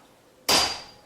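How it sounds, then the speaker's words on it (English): Single sharp metallic tap of a hammer on the drawbar of a King Canada KC-20VS mill, close and loud, with a brief ringing tail fading over half a second. "take a hammer and give it a tap"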